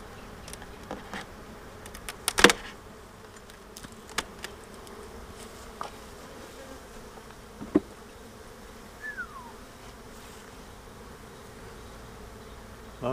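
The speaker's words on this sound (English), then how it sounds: "A lot of bees right there." Bees hum steadily throughout a backyard beehive inspection, a low continuous buzz with individual bees passing close, punctuated by scattered clicks and knocks from handling the hive.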